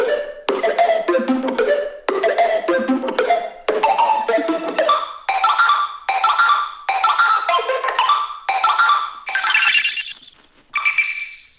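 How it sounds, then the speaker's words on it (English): A chopped, rhythmic music sample with bright glassy hits, gradually smearing into a shimmering, granular wash toward the end. "there's a grain delay that's getting automated to open up"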